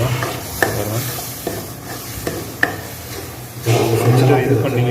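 A spoon works roasted gram flour laddu mixture around a hot pan in repeated scraping strokes with light sizzling beneath, a few sharper knocks against the pan, and the frying grows louder toward the end.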